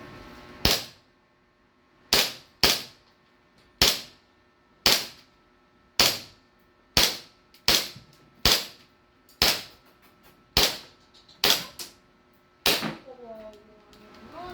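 Series of about fourteen sharp gunshots from a Staccato 5.1 pistol at a range, fired in irregular quick succession with short echoing decays, close and loud, with brief speech near the end.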